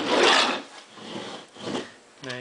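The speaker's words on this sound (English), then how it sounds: "I'll just remove this pulley real quick." A pulley comes off a small permanent magnet alternator in a few close, rasping scrapes of metal, with short pauses between the bursts and a brief tonal sound at the end.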